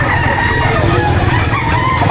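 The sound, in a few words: rooster crowing at a chicken market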